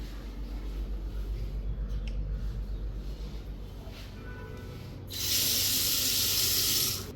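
A hotel room tap in Kandy, Sri Lanka, starts running partway through, a loud steady hiss of water rushing out close by after a quieter low hum and faint handling sounds.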